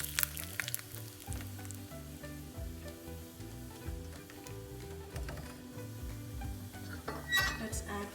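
Mustard seeds, curry leaves and a red chilli sizzle and spatter in hot cooking oil for a prawn curry, a steady close crackle with sharper pops near the end and occasional utensil clinks.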